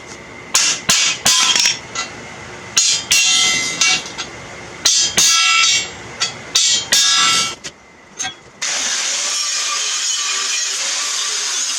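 Sharp metallic hammer strikes on a punch, knocking out rivets, land in quick bursts of two or three, loud and close, followed by a steady hiss of noise.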